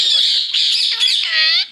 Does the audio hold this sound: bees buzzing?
no